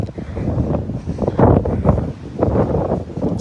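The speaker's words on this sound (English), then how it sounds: "I'm sorry it's so windy, y'all." Steady low rumbling wind buffeting a microphone, with gusts swelling louder in a few bursts throughout.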